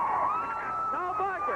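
Loud crowd noise fills a high school basketball gym at a 1987–88 Gate City vs Grundy regional quarterfinal game, with a steady roar under an announcer's voice.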